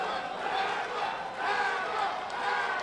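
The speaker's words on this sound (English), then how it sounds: "And the crowd goes wild." A crowd at a boxing match roars and cheers steadily, dense and loud throughout, swelling slightly midway, with a commentator talking over it.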